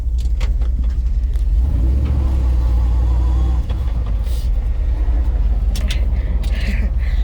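A truck on a test drive rolls along the road at around 45 to 50 mph, giving a steady, loud engine and road rumble from start to finish with light rattles and clinks.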